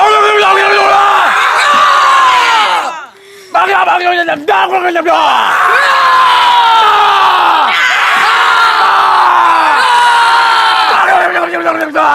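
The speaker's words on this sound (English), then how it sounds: "Here you get a good cheer." Campers in a cabin cheer and yell loudly in repeated waves, voices swelling together in a raucous group chant with a brief dip in the middle before the noise surges again.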